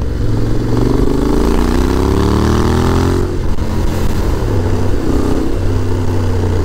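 A Honda X-ADV motorcycle engine revs up with a rising, steady drone, drops back briefly, then settles into a loud, even idle-like hum close by.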